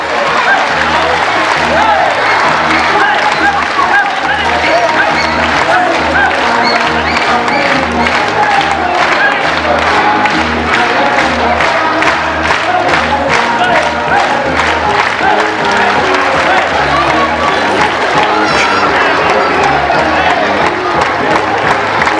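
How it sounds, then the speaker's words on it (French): A large audience at a 1991 Christmas party for the Matra auto and defence works council claps hard and cheers through loud, dense dance music with a steady beat, with voices mixed in. "Et on applaudit très très fort en tapant les mains."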